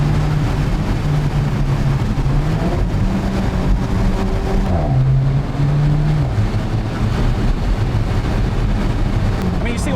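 Road noise and engine drone fill the cabin as a red 2016 Alfa Romeo 4C Spyder drives on cold tyres, with the engine note rising and shifting through gears under occasional talk.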